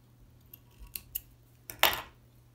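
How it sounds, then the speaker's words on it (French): Scissors snipping excess tying material off a fishing fly hook, several small close snips followed by one louder, crisp cut, in a quiet room without speech. "je vais venir couper l'excédent assez droit"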